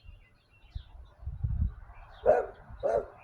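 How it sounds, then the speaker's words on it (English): A couple of short, muffled dog barks in the background, fairly faint, with a low rumble just before them. "Sorry about my dog barking in the background."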